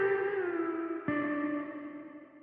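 A guitar sound font run through vocoder and hardcore distortion plugins in a beat production gives a buzzy, heavily processed sustained tone. It slides down in pitch, then a second note is struck and fades away. No voices are heard.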